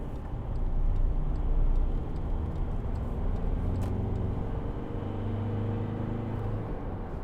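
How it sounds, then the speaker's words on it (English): A 2012 Volkswagen Amarok 2.0 BiTDI pickup accelerates, its diesel engine droning steadily from inside the cab while the low pitch climbs through the gears. No one speaks. "Not a bad turn of acceleration really for a big beast, a big pickup"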